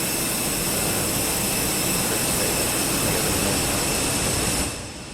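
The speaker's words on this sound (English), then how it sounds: "Let's just turn the APU off and then you won't have any noise." Steady aircraft APU whine in Microsoft Flight Simulator 2024, a continuous broadband hum with a high tonal edge holding level throughout, then dropping slightly at the very end as it winds down.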